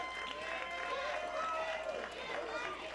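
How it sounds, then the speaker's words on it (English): A wrestling crowd in an arena cheering and roaring continuously, a loud dense wash of voices filling the space without pause. "Listen to this crowd."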